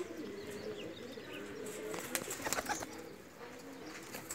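Teddy cross pigeons of a Sialkoti bloodline, kept as home-bred flying birds, coo softly and steadily at close range, with a few brief wing flutters and chirps and no talking.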